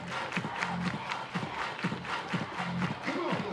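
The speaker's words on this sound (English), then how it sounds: "Everybody clap your hands." Crowd at an NCAA college softball game between Florida State and Georgia Tech claps along in a steady rhythmic beat, a broad, busy stadium roar with cheering mixed through, loud and continuous throughout.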